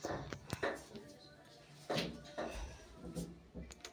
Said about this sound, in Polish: Drzwi się otwierają.